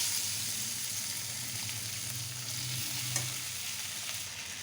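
Cooked rice being stirred in a pan with green chilies and turmeric for lemon rice, a steady close sizzle of frying under continuous scraping and mixing, with no talk.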